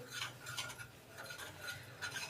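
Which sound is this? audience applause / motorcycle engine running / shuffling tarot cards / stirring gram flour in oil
stirring gram flour in oil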